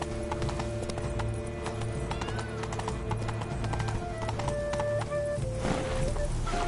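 Horse hooves gallop in The Witcher 3: Blood and Wine, a steady rhythmic clip-clop over ambient game music with occasional tonal accents, moderately loud and continuous, with no talking.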